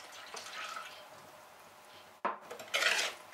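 Chocolate cake batter with oil and milk being mixed in a bowl: a soft scraping swirl, then a sharp pause and louder clinking, scraping strokes of utensil against the bowl, close and quiet.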